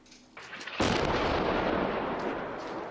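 Artillery fire and gunfire in a battle in the south of Donetsk region, a heavy booming blast bursting in after a quieter opening and rumbling on, sustained and loud, without voices.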